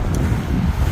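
Strong wind beside a snowy lake blows as a steady, loud roar that buffets the microphone throughout, with no voices.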